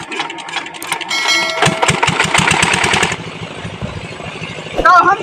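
Engine running during wheat field irrigation, a steady mechanical chugging with rapid rhythmic knocks, fairly close and loud, with people talking over it.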